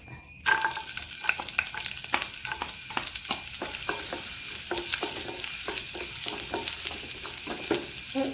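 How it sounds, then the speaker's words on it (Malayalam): Garlic sizzles steadily in a hot pan for a soya fry while a utensil stirs it, scraping in repeated close strokes over the constant frying hiss, with no one speaking. "പാനെല്ലാം ചൂടായി അതിലേക്ക് വെളുത്തുള്ളി ഒഴിച്ചു കൊടുത്തു അപ്പോൾ അതിലേക്ക് വെളുത്തുള്ളി ഇട്ട് കൊടുക്കുക"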